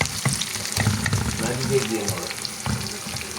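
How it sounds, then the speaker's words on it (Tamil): Green chilies sautéing in a hot pan in a Tamil home kitchen, a steady close sizzle with a few stirring knocks, before onion and cabbage go in. "சித்தமிளகாய் கொஞ்சம் வதங்கத்தான வேணும். சித்தமிளகாய் போட்டு பொடியை விட்டு"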